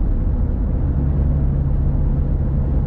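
Toyota Innova Crysta 2.8 diesel automatic cruising in fifth gear, a steady low engine drone and road rumble heard from inside the cabin, constant and unbroken throughout.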